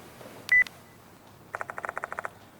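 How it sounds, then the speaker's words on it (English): A phone vibrates in a room in the video game Spirit Hunter: Death Mark II, with a brief tone followed by a rapid burst of buzzing pulses, close and distinct over a quiet background. "The sound of a phone vibrating echoes in the room."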